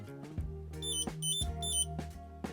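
A card-finder tracker clipped into a compact wallet emits a run of bright electronic beeps in a short repeating pattern, close and moderately quiet.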